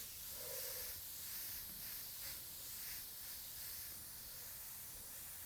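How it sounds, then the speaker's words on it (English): A faint, continuous airy hiss of spray paint used for blending colours in fantasy art, with soft pulses as the nozzle is pressed, fairly quiet and steady. "So just spraying, chill, just blending with the previous color."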